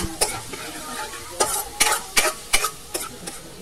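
Garlic sizzles in hot oil while being stirred for chicken tinola, with a steady frying hiss broken by several sharp scraping stirs at irregular intervals, close and fairly loud.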